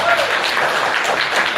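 An audience applauds at a political meeting of the national right, a dense, loud, steady wash of clapping from a crowd lasting the whole moment.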